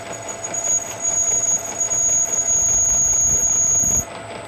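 A steady high-pitched whine from a machine cutting a chamfer on an EQ8 hums over low grinding rumble, continuous for a few seconds before cutting off abruptly.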